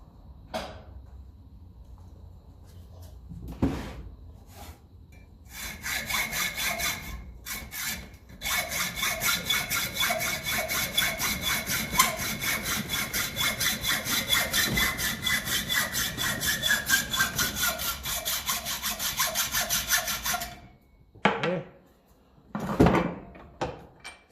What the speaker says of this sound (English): Firstly, we can cut this off, this thread.